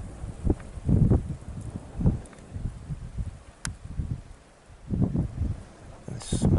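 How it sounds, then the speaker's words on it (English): Strong gusting wind buffets the microphone at a raging wildfire near villas in Cyprus, coming in loud rumbling bursts that swell and fade, with a brief sharp crack midway. "Extremely windy conditions as well."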